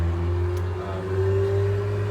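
A loud, steady engine drone with a rising whine, like a car passing close by, continuous for the whole moment with no voices.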